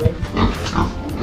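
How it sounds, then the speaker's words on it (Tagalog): Pigs on a farm in the Philippines grunt and oink in a steady run of close, moderately loud snorts over a low rumbling background. "Ito pala yung baboy guys."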